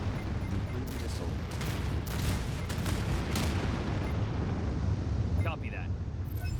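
A nuclear missile launch in the strategy game Anno 2205, heard as a dense, continuous roaring rumble with crackling bursts. It stays loud and steady throughout, and a brief electronic chirp comes near the end.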